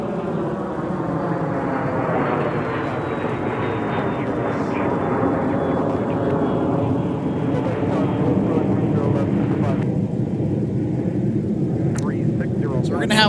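An airliner rumbles on the runway at Minneapolis–Saint Paul airport amid departure queues, a steady loud engine roar with a rising whine, while a person talks over it.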